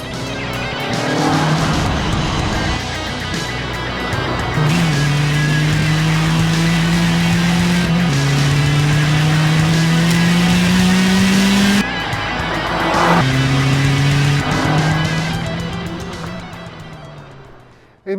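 Classic Peugeot 205 Rallye driving hard, engine loud and close with rising revs through repeated gear changes, tire squeal and skidding mixed in, a brief drop between pulls and no talk.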